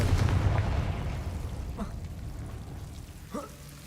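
A Confringo fire spell cast in the video game Hogwarts Legacy bursts out as a loud, crackling, fiery blast that slowly fades, followed by two short, faint whooshing flickers.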